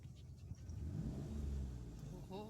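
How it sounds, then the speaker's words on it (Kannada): A car engine hums and rises gently as a learner driver lets out the clutch and eases onto the accelerator, faint and short, under a quiet voice. "ನಿಧಾನ ಕ್ಲಚ್ ಬಿಡು ನಿಧಾನ ಎಕ್ಸಲೇಟರ್ ತೊಳಿ"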